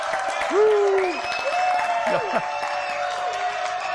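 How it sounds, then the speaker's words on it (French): Applause from a studio audience at a French TV show, a steady wash of clapping with whoops and raised voices rising above it, fairly loud and close throughout. "Applaudissements s'il vous plaît"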